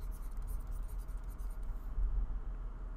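A pen or marker writing out a chemical name on a board or paper, with short scratchy strokes in the first two seconds, then fading to quiet background hum.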